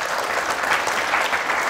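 An indoor audience at a branding talk claps together in a brief, dense burst of applause with no voices over it.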